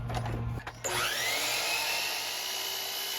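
A power miter saw spins up and bites into a wooden stair rail, a rising whine settling into a steady, loud cutting drone that runs to the end with no talk.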